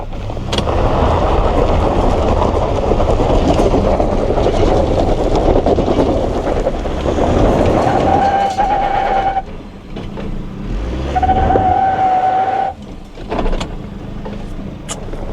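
A 2024 Ford Ranger FX4 in two-wheel drive climbs an off-road hill with a loud, close, sustained engine roar and rough mechanical noise, plus a brief thin whine that comes in twice.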